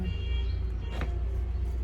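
A noisy garbage truck passes, giving a steady, loud low rumble of engine noise throughout with a brief rising whine near the middle.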